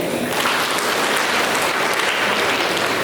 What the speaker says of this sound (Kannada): ಅದಕ್ಕೋಸ್ಕರ ಎಲ್ಲ ಒಂದು ಚಪ್ಪಾಳೆಯನ್ನು ತಗೊಳ್ಳಿ